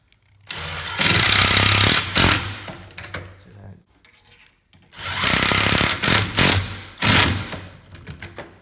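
A power drill drives a pocket hole screw into a clamped wooden face frame joint made with a Kreg jig, two loud close whirring bursts separated by a short pause, with brief revs and stops.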